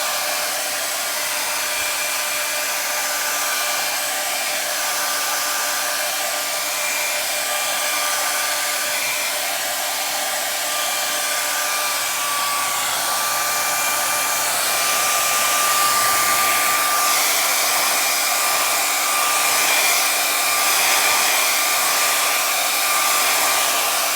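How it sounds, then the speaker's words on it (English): A hair dryer running on its cool setting blows steadily and loudly for the whole stretch, a continuous broadband whoosh with a faint motor whine and no talk. "with a hair dryer on cool setting"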